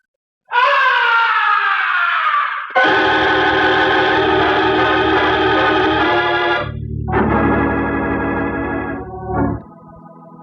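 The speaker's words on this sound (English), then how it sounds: "the opera house was pierced with a blood-curdling scream" A piercing, blood-curdling scream rings out through an opera house in a radio drama, several long, loud wailing cries in succession, each held and then broken off, with no talk.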